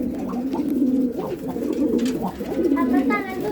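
Domestic pigeons cooing close by in a loft, low repeated throaty coos in a steady rhythm, with some chirping from other birds toward the end.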